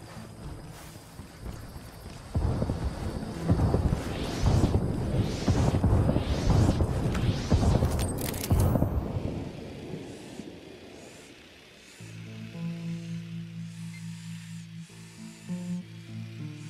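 A barrage of artillery explosions rumbles in Ghost Recon Wildlands, a series of rolling, roaring blasts for several seconds that fades out before steady music takes over.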